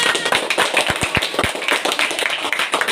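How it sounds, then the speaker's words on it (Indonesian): A small classroom group claps for a student, giving a short burst of uneven, close handclaps that thins out after a couple of seconds. "Beri aplaus sama dia."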